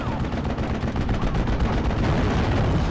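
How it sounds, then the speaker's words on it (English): Enemy artillery and gunfire pound continuously in the World War II strategy game Steel Division: Normandy 44, a loud, dense barrage of overlapping blasts and rattling shots with no pause. "All the artillery coming in."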